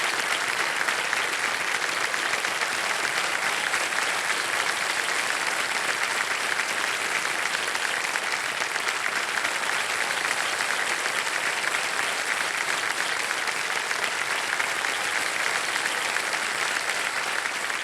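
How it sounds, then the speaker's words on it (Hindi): A studio audience on a televised quiz show claps in steady, sustained applause, an even, dense roar of hands with no speech over it. "बहुत बहुत तालियों के साथ आपका हम स्वागत करते हैं।"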